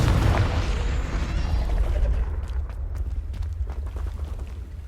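Confringo fire spell explosion in Hogwarts Legacy, a loud booming blast up front that rumbles and fades over a few seconds, with scattered crackles after.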